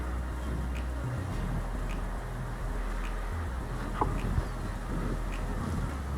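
Honey bees buzz around a hive after a failed colony was shaken out and combined, a steady low drone with scattered individual bees passing close.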